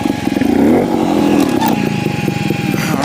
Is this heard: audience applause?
no